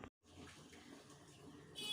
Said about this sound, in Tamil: பருப்பு முழுகிற அளவுக்கு தண்ணி ஊற்றிக்கோங்க.